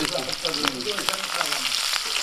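Hilsa fish frying in hot oil gives a steady, dense sizzle and crackle with occasional sharp pops, close and continuous throughout with no voices.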